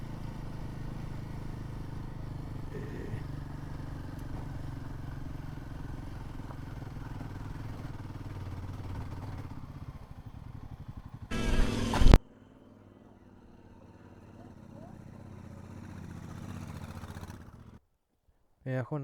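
A motorcycle rides along a foggy mountain road, its engine droning steadily from close by, then a brief loud burst before it drops to a quieter hum, with a person talking at times.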